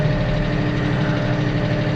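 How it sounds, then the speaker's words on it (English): A tractor with a hydrostatic drive idles on a cold day, a steady low, even engine rumble with a faint rhythmic throb, close and constant with no talking. "That's the only thing I don't like about this tractor. When it's cold, the hydrostatic's a little jerky on it."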